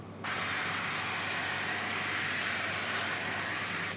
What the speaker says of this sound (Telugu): స్ప్రే కొట్టుకుంటాం